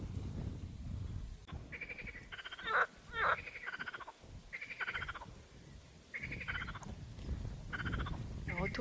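Frogs croaking in repeated bursts of rapid rattling calls, several overlapping voices with short pauses between, fairly faint outdoors.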